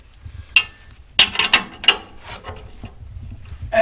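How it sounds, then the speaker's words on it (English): A 7/8 wrench turns a bolt by hand while installing a lowering block, giving a few sharp metallic ratcheting clicks and clinks between quieter stretches, close and clear with no talk. "So I'm going to have to just do this by hand. So got my 7/8 wrench."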